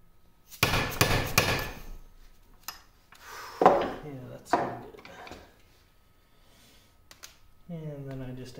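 A few sharp metallic hammer strikes on a pointed punch against metal parts of a 1950 LeBlond Regal lathe apron, spaced irregularly with pauses between, followed by a brief voice at the end.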